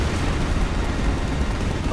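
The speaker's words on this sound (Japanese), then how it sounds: "あ、爆発した。" Explosion in the video game Final Fantasy XV, a dense, loud, roaring burst of noise that fills the whole short stretch without pause.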